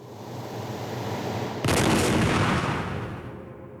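A single cannon blast as a sound effect, erupting abruptly from a low rumbling background into a loud, broad boom that decays slowly over a couple of seconds.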